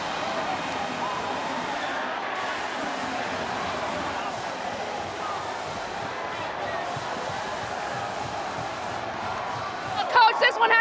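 A dense, continuous roar from a football crowd at Husky Stadium after Washington beat Michigan, with a commentator speaking over it and a few sharp thumps near the end.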